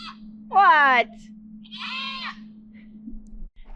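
Goats left inside bleating, upset at being shut away: two distinct wavering bleats, the first loud and sharp, the second softer and more nasal, over a steady low hum.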